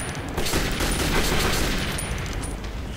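Sustained burst of gunfire in the first-person shooter Metro 2033, loud and dense, rattling continuously for about three seconds with no talk over it.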